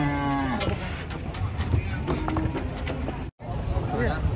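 A giant cow lets out a short moo at the start, followed by a busy outdoor mix of people talking, knocks and clatter, with a brief dropout near the end.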